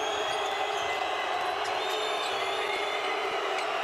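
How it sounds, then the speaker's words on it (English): Crowd noise at a Serbia versus Switzerland basketball game, a steady dense roar of fans filling the arena with faint squeaks and thuds from play, no clear talk over it. "Listen to the crowd now."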